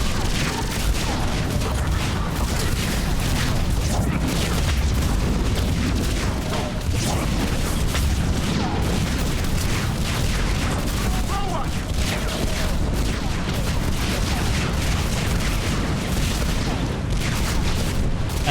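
Dense, continuous gunfire crackles with repeated booming explosions, a loud, unbroken barrage of game combat sounds throughout.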